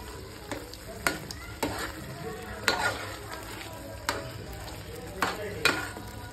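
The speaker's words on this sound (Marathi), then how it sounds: "त्यामुळे दही व्यवस्थित मिक्स करून घेऊया" Curd being stirred into simmering chicken masala in a pan: a steady low sizzle with sharp spoon scrapes against the pan at irregular intervals, close and moderately loud, with no talking.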